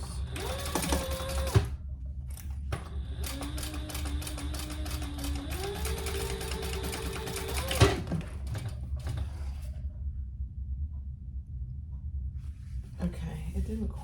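A sewing machine stitches darts on a Retro Tec sling bag, running in steady bursts with pauses between them, close and fairly loud, with faint handling noises in the gaps.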